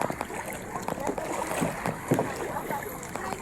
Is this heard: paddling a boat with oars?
yes